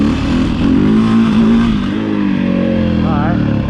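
A 2011 KTM 530 EXC dirt bike revs hard for a wheelie, its loud close engine note rising and wavering in pitch in a continuous throaty burst.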